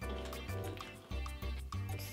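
Water is worked into clear slime by hand, giving rhythmic wet squishing and squelching pulses, close and fairly quiet, repeating about every half second.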